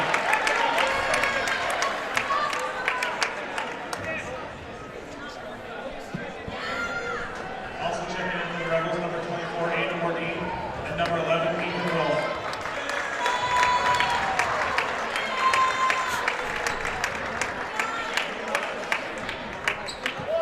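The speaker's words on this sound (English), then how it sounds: "And that will do it for Owen Leach, who gets a nice round of applause from the hometown crowd." Hometown crowd at a high school basketball game applauding in a steady wash of clapping and cheering under continuous play-by-play commentary, with gym noise and murmurs throughout.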